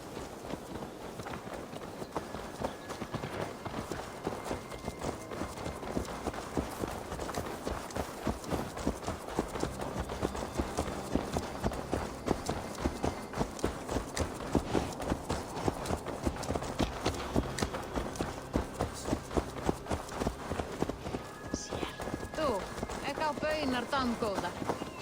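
Horse hooves clip-clop steadily while riding in Assassin's Creed Valhalla, a continuous rapid drumming of hoofbeats throughout, with talking layered over it.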